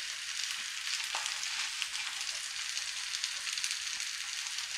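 Slit green chillies sizzle and crackle steadily in hot oil in a pan while mutton kheema curry is being cooked, a dense, even frying hiss with no voices.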